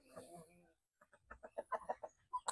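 Zampi native chickens from an Ulikba breeding flock cluck and call in a rapid series of short, close notes, growing louder toward the end after a brief pause, with a person speaking at the start.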